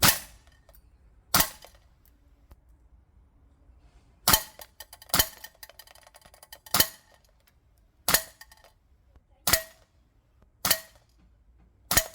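A VFC MP7A1 Gen 2 gas blowback airsoft SMG fires single sharp cracking shots at a target about 10 meters away, roughly ten evenly spaced, loud, close pops with quiet gaps between them.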